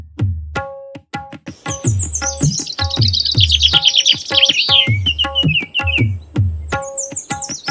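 Bird chirping in a cartoon story: a steady stream of high, warbling tweets sounding close and clear, laid over a lively rhythmic music track with repeated plucked notes.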